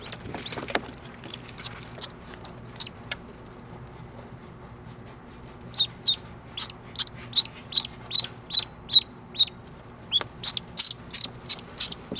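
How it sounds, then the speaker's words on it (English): Repeated bright bird chirps near a decoy bird set in a swing, coming in short bursts with pauses, mostly clustered in the second half, over a quiet outdoor background. "I've got the decoy bird in the swing."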